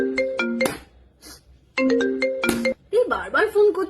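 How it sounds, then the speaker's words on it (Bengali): A mobile phone ringtone plays two short bursts of bright melodic tones separated by a pause, with a voice talking right after the second burst. "বারবার ফোন করছে তো"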